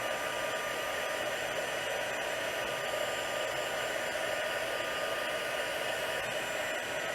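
A heat tool blows hot air to melt white embossing powder for stamping. It makes a steady, loud, close whoosh that runs unbroken with no change in pitch or level and no voices.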